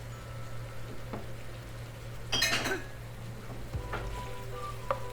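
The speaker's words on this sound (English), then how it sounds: "Give this a nice stir." Diced onions stirred in a hot pan, a steady close sizzle of frying with a spoon scraping through the pieces and a few light clinks against the pan.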